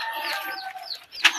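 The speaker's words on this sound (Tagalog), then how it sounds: "Mga manok." Chickens clucking in a rural farmyard, a busy mix of short calls with one sharper squawk near the end, heard close amid background activity.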